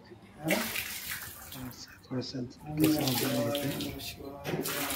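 Hot spring water at the Vajreshwari temple site near Ganeshpuri splashes and sloshes as someone wades in, a close, uneven watery churn with speech over it.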